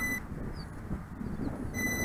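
A Bayangtoys X21 brushless double-GPS quadcopter remote control emits high electronic beeps, one short burst at the start and another near the end, with quiet low hum in between.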